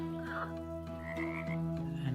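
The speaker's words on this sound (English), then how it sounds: "A nice happy little bog with frogs and dragonflies." Frogs croak steadily in a calm bog in the video game FoxTail, a dense layered chorus with a constant drone and brighter calls rising at intervals, moderately loud with no voices.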